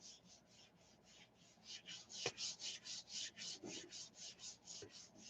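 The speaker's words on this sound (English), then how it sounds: "I'm going to try and do a cleanup, so you got to rub it like 3 minutes" Quiet, steady back-and-forth rubbing on a gelli plate while cleaning ink off it, a regular rhythmic scrub of about three strokes per second with a few faint knocks.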